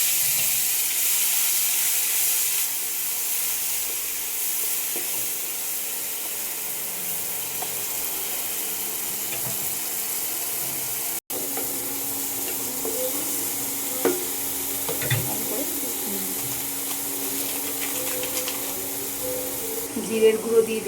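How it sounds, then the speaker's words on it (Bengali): Onion paste sizzles in a frying pan of oil with whole garam masala spices, a steady broad hiss with occasional stirring scrapes near the end, continuous and moderately loud. "এবার পেঁয়াজ বাটা দিয়ে দিলাম"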